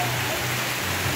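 Steady rain falls at night on a lakeside campsite at Lake Laut Tawar in Central Aceh, a continuous broadband hiss of drops with a low rumble beneath, even and unbroken throughout.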